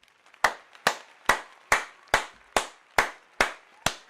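Slow, deliberate clapping from one person: about nine sharp, evenly spaced claps, each ringing briefly in the room before the next, with no voices.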